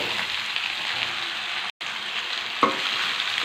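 Onions, green chillies, tomatoes, raw mango and bottle gourd fry in a pan with a steady, even sizzle, close and fairly loud, briefly cut off once with a faint clink near the end.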